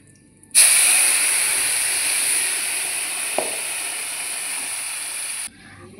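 A paste of tomato, coriander leaves and onion hits hot oil with a sudden loud sizzle that holds as a steady, bright hiss for about five seconds, then cuts off abruptly, heard close up.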